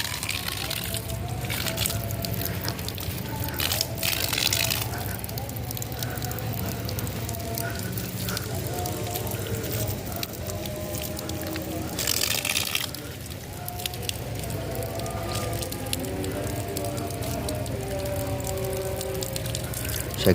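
Water splashes and trickles steadily from a padasan, a traditional clay ablution vessel, while feet are washed, with a continuous pouring flow and occasional louder splashes.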